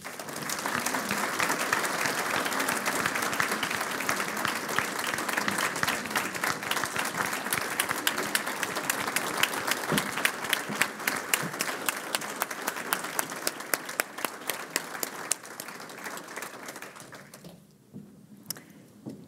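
An audience applauds the Madison County Judge Executive at a 2024 State of the County address, with a long run of dense, sustained clapping that thins and fades near the end.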